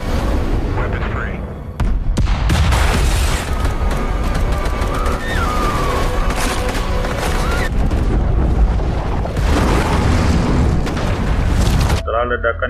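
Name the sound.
explosions from fighter jets bombing city in The Tomorrow War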